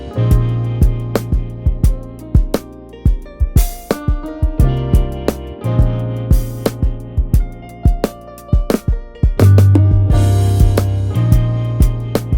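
Layered beat with Rhodes piano chords, guitar, bass and punchy drums with crash cymbal hits, a steady rhythmic groove of repeating kicks and snares under sustained keys, loud and full with no talking.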